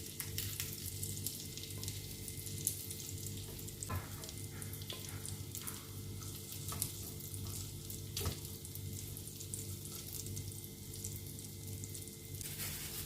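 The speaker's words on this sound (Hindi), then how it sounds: "10 मिनट हमने मीडियम लो फ्लेम पर इन्हें फ्राई किया है चारों तरफ से" Gola kebabs frying in a pan over a medium-low flame, a continuous close sizzle with occasional small crackles and stirring clinks, steady throughout.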